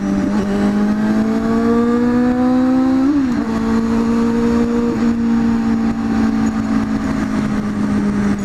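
Motorcycle engine droning steadily while riding, a close, loud hum holding a near-constant pitch with a brief dip and rise midway, plus wind and road noise, no talking.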